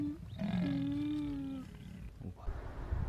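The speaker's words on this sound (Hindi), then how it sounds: "तेंदुए की आवाज़ आ रही है" A leopard calls at night in a dense Shimla hill forest, one sustained rasping roar rising loud and close, then fading into faint forest ambience and rustling with no talking.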